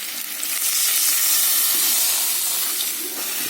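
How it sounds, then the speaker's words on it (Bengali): Water poured into spiced potatoes frying in a pan, producing a loud hissing, steaming rush that stays steady throughout, close and without talking. "এবার আমি এতে জল ঢেলে দেবো"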